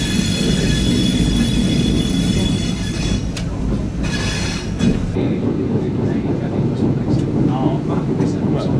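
Train running on the railway at Ervalla, a loud continuous rumble with wheel clatter and high squealing from the rails, heard up close throughout.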